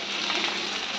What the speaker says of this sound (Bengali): তেল খুব ভালোভাবে গরম হয়ে গেছে, ওই তেলের মধ্যে আমি কেটে রাখা ভেন্ডিটা দিয়ে দেবো।